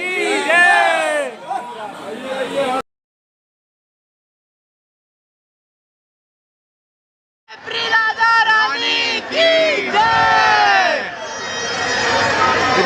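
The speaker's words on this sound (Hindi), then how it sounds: "इतना ज़्यादा क्रेज है, देखिए आप लोग भीड़ कितनी है।" A crowd of devotees at a Vrindavan temple fills the air with loud overlapping voices, calls and cheers nearby; the sound cuts out to silence for several seconds in the middle, then the crowd returns just as dense.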